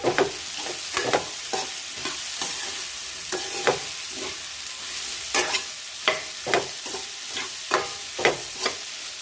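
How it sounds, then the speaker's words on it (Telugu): Radish frying in a pan that is shaken now and then gives a continuous sizzle with repeated louder clacks and scrapes in an irregular rhythm, close and alone, no talking. "ఫ్రై కావాలంటే దీన్ని ఇలా పట్టుకొని ఇలా ఇలా ఇలా షేక్ చేసి వదిలేసేయాలి."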